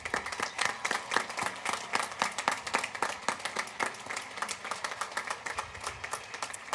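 An audience at a high school graduation ceremony applauds honor roll students, a steady patter of many hands clapping at moderate distance, fairly faint, with no talk over it.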